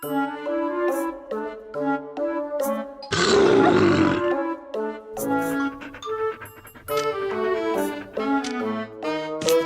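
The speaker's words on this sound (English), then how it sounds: "Roar to threaten those bad dogs away." A cartoon beast roars in a kids' pet-doctor puppy rescue game, a single loud, raspy roar lasting about a second, set amid bright, bouncy game music.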